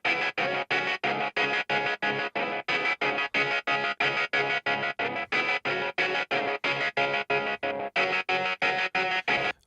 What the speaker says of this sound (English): two electric stutter guitars, and together, soloed out, they sound like this.